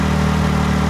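A Can-Am X3 side-by-side engine idles steadily up close after its intake has been reinstalled, giving a constant low, even hum with no talking.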